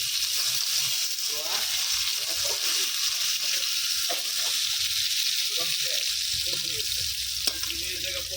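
Eggplant slices frying in oil, a steady broadband sizzle running the whole time with occasional soft scrapes and clinks of a utensil turning the pieces.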